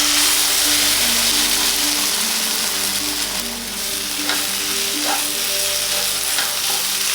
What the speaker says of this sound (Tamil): முட்டை ஆட் பண்ணிட்டு மீடியம்லேயே குக் பண்ணிக்கலாம்.